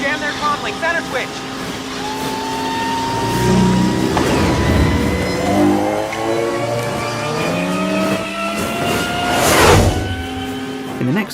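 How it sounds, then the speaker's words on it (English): Three Scout Trooper speeder bike engines from a Star Wars forest chase rise in pitch one after another, loud whining tones sweeping upward over a busy film mix with rumbling and rushing. "the three Scout Trooper speeder bike engines sequentially rise in pitch as they appear on screen and head off through the forest"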